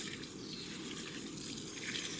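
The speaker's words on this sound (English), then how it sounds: "And I'm gonna pour that right over the top of my pile." Water from a bucket poured over the top of a dry backyard compost pile, a steady close splashing trickle running without pause and with no voices.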